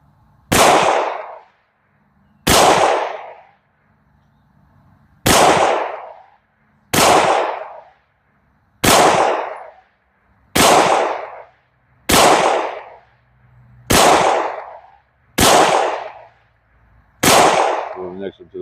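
Eight single pistol shots from a Canik TP9SFX fired at range targets, each a sharp loud crack with a short decaying tail, spaced evenly about two seconds apart.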